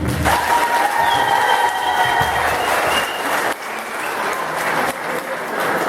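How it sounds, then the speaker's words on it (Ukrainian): A crowd at a village day celebration applauds the children in a steady, moderately loud patter of clapping that lasts throughout, with faint tonal background sounds. "Прошу аплодувати їм"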